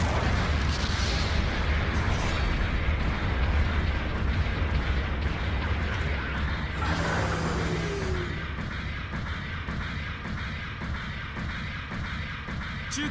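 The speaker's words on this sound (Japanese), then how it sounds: "後方部隊からの支援砲撃が来ます。" A support artillery bombardment in Gundam Battle Operation 2 rumbles as a dense, sustained wall of explosions and booming impacts. The barrage stays loud throughout and eases slightly in its latter half.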